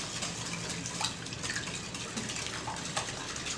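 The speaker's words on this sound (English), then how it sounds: "Now I've got milk here. I'm just adding it slowly so that I don't have to like slosh everywhere" Milk trickles slowly into a bowl for bread pudding, a continuous soft liquid pouring and splashing sound heard close up for a few seconds, with no talk.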